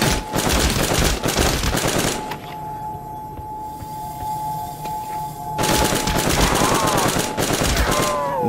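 Gunfire from Call of Duty Zombies on the Origins map played in VR, loud bursts of automatic fire at the start and again later, split by a quieter stretch with a steady tone, no talk.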